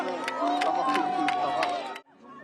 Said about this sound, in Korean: 이재명 대표가 나타나자 노란 모자를 쓴 시민들이 환호했지만